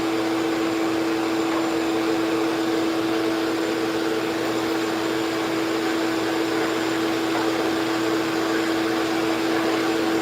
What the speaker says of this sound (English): Let's get the coin hole drilled.